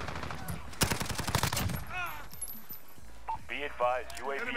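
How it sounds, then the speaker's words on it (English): Rapid submachine-gun bursts from a Bizon in Call of Duty: Modern Warfare crackle up close, followed by a brief lull, while a player talks over the game audio. "It's my little SMG."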